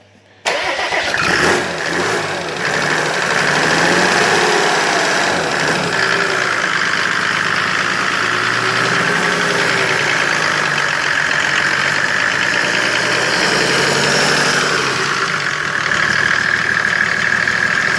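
A Mercedes OM606 turbo diesel engine with an electronic injection pump runs steadily and loud from start to finish, a dense mechanical drone with no clear rises in pitch.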